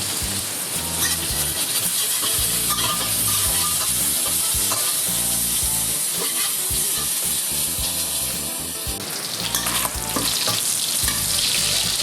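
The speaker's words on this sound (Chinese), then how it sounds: "我们要把五花肉里的油煸出来，这一步需要花一点时间。" Pork belly frying in a hot wok over low heat as its fat renders out: a loud, steady sizzle with dense crackling and spitting that runs continuously, with no talking.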